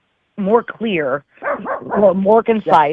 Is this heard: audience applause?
no